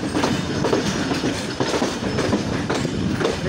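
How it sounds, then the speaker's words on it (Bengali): A train passes close by at a busy diesel locomotive junction, its wheels beating a loud, rhythmic clickety-clack over the rail joints. The rolling clatter continues throughout with no voices. "রেল লাইনের যে ঠক ঠক ঠক ঠক আওয়াজ,"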